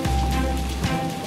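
Heavy rain drumming steadily on a vehicle during a drive to Temanggung, a loud, dense wash of noise with no pause across the short stretch.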